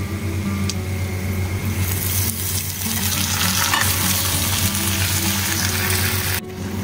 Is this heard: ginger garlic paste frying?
yes